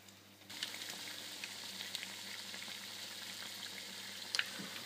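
Egg-dipped bread slices for torrijas hitting a hot oiled frying pan, a sudden onset of steady close sizzling hiss with scattered crackles and a couple of sharper pops near the end, no voices.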